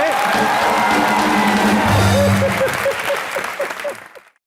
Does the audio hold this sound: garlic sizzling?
no